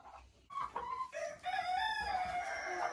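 Marans hens cluck and call close by in a straw-bedded coop, a few rising, drawn-out squawks following short clucks, over a faint background hum.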